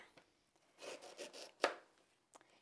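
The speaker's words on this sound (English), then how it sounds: "I'm going to make small pieces of this ginger" A knife chops ginger and green chili on a board with a handful of soft, quick cuts, close and fairly quiet, including one sharper chop, without talking.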